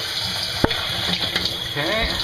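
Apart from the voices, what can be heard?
water being added to a fogless shower mirror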